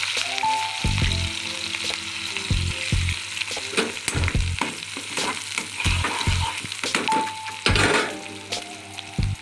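Green chilies and onions fry in hot oil for semiya upma, a steady close sizzle broken by repeated clanks and scrapes of a stirring spoon against the pan.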